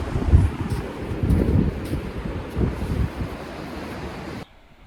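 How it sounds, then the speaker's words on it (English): Wind gusts across a wide sandy fishing beach, a steady low rushing buffet with uneven swells and microphone rumble, alone with no talk before cutting off near the end. "Wind's picking up a little bit."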